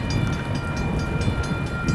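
Union Pacific freight train passing eastbound through Pleasanton, California, heard as a steady, loud rumble and rolling roar with wind buffeting the microphone.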